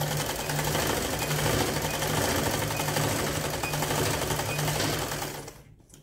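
A sewing machine stitching the hem of palazzo pants runs continuously and steadily for nearly six seconds, a close, even mechanical hum before cutting off at the end.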